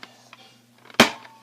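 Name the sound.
Nerf toy pistol being cocked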